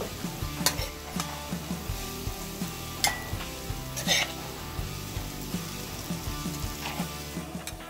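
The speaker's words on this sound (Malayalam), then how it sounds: "അങ്ങനെ നമ്മുടെ കൊഞ്ച് വറുത്തത് ഇവിടെ റെഡി ആയിട്ടുണ്ട്" Shrimp fried in a pan with ginger-garlic paste and pepper, giving a steady close sizzle, with occasional scraping and stirring clinks of a utensil against the pan.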